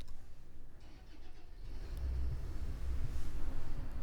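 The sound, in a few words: car engine starting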